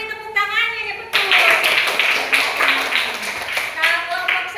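A classroom of students bursts into a round of clapping after a short spoken line, with the applause continuing under lively voices and chatter.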